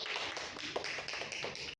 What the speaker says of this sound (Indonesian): mari tepuk tangan untuk kelompok 2